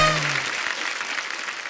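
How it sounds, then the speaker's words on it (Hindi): Studio audience applause at a comedy talk show, a dense broadband patter of clapping that follows a brief tonal cue and holds steady for under two seconds. "ये हुई ना बात। जोरदार तालियां मेरे लिए।"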